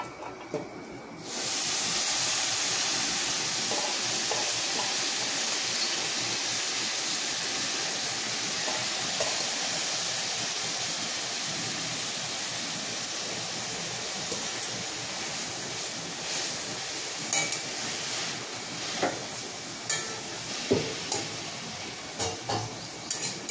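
Chopped amaranth leaves hit a hot pan for thotakura pappu and erupt into a loud, sudden hiss of steam that holds as a broad continuous sizzle, later joined by scattered clicks and scrapes of stirring.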